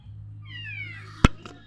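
A hungry cat named Luna gives a single drawn-out meow, close and fairly clear, followed by a sharp click and a brief fainter sound over a low background hum.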